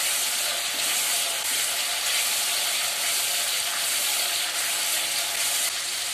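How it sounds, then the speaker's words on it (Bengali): Onion paste frying in hot oil for a Bengali katla fish kalia, giving a steady, even sizzle and hiss that runs throughout without talk. "পেঁয়াজ বাটা দিয়ে ভালোভাবে কষাতে থাকবো।"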